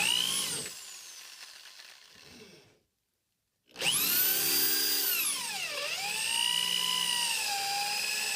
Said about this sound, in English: I drill that hole as long as the drill bit would go